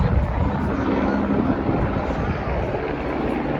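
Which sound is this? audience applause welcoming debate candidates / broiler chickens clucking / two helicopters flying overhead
two helicopters flying overhead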